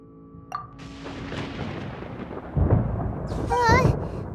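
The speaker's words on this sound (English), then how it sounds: "Paimon hears thunder!" Thunder rumbles through a storm scene in the Genshin Impact video game, a long low roll building to heavier booms, with a game character's voice briefly over the top near the end.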